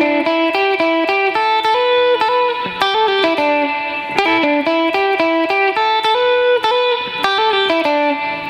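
Surf guitar playing a repeating lead riff, bright, twangy picked notes in a steady rhythmic phrase with slight variations, loud and close with no talking.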